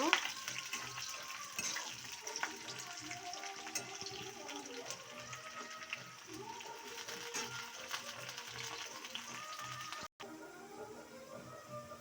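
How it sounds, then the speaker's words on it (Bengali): Garlic and nigella seeds frying in oil in a pan for a potato and greens dish, a quiet continuous sizzle with light stirring throughout, a brief dropout near the end. "রসুনটা প্রায় লালচে লালচে ভাজা হয়ে গেছে"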